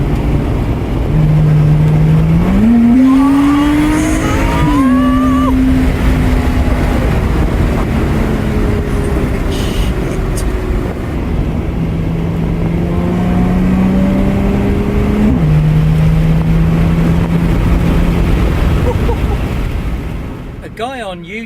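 A Lotus Exige S sports car engine drones steadily on a Sunday morning drive, its pitch climbing sharply as the revs build early on, then settling and shifting again through later gear changes, loud and continuous throughout.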